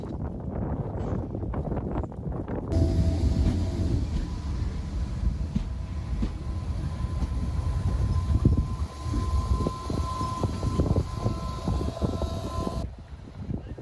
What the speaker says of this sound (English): Taking us to Dublin today is one of the Class 8100 electric trains